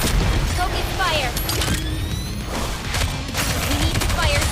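Video game gunfire in Nikke: loud, dense bursts of shots and booms with mechanical clatter and whooshing effects.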